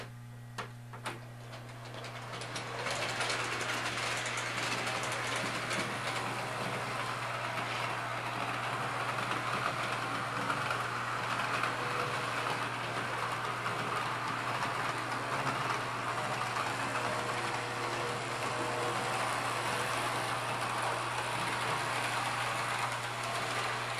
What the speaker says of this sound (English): that'll start to train up and it should do one loop around and stop again